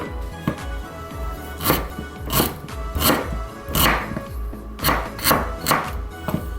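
Ginger being chopped finely with a knife on a board, a loud, close series of irregular sharp chops with a few quicker bursts and no talking.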